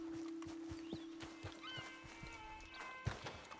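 Horse hooves clip-clop at a steady walking rhythm in the Western video game Red Dead Redemption 2, close and moderately loud, with a brief whinny-like tone and tack jingles over the footfalls.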